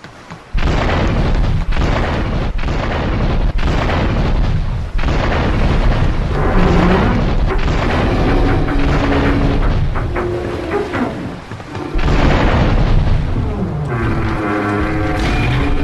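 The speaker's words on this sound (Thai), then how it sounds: "ก่อนที่จะจุดชนวนระเบิดทำให้เรือจมลงไปทั้งลำ" A bomb detonating aboard a container cargo ship in GTA 3 The Definitive Edition, a string of loud booming blasts with rumbling roar and crackling debris, shifting into tonal game sounds near the end.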